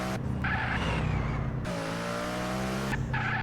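A car engine revs hard while tires squeal and skid in a driving video game; the loud, continuous roar shifts pitch as the car accelerates and drifts, with no talking.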